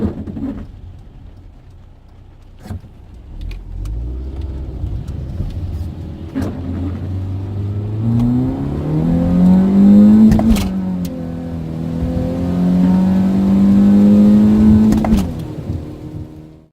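A 1957 car being built for racing, driven on the road with its engine rising in pitch through several accelerations, a deep rumble swelling and easing as it shifts and pulls again, loud and close inside the vehicle.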